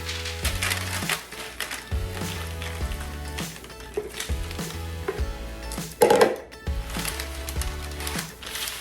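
Homemade granola poured onto a parchment-lined baking pan, a close, dry rattling and crunching cascade of oats and clusters that stutters in uneven bursts over the course of several seconds, with no talking.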